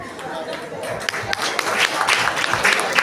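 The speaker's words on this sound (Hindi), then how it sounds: "जोरदार तालियां बच्चों, तालियां बजती रहनी चाहिए।" An audience at a school annual function claps in a brief, loud burst of applause with crowd chatter mixed in, filling a short stretch of sound.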